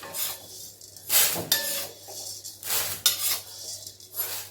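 Roasted lentils for idli chilli powder are scraped from a pan onto a plate, with repeated metallic scraping and clinks of a spoon against cookware in close, irregular bursts.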